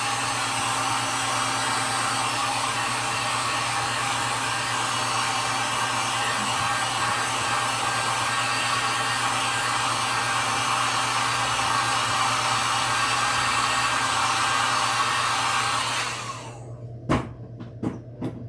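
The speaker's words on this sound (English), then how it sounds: "I'm going to grab my heat gun here. We're going to dry it one more time" A heat gun blows loud and steady over acrylic paint on a wood sign, a constant close whoosh lasting most of the clip before it cuts off, followed by a few sharp clicks.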